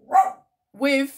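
A dog barks indoors, nearby and loud. There are two separate barks, a short one and then a longer, fuller one, with a brief silence between them. A single spoken word comes alongside.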